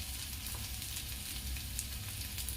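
Potatoes and peas fry in a pan with a quiet, even sizzle that carries on without a break beneath a low background hum.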